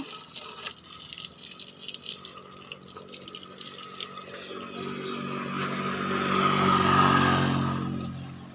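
Water spraying over a saleng motor tricycle during washing, a continuous splashing hiss with drips that swells louder toward the end, outdoors with faint background noise and no clear speech.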